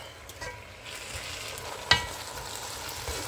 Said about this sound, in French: il faut commencer à remuer les matembele